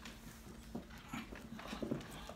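A lively little puppy at close range indoors, giving faint whimpers and soft panting over a quiet room hum.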